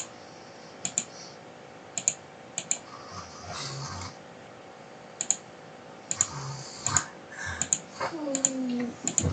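A computer mouse clicks repeatedly while drafting in Revit 2024, sharp close-up taps in irregular bursts, sometimes doubled, over a quiet background hum.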